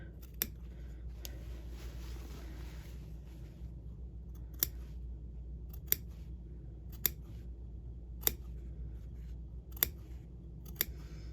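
Scissors making sharp, isolated snips through a fabric seam allowance while clipping around a curve on a lined all-in-one facing, about eight distinct cuts spaced irregularly over quiet room tone.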